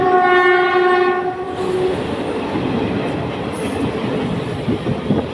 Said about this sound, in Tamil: train number 12075 Kozhikode Thiruvananthapuram Janshatabdi super fast express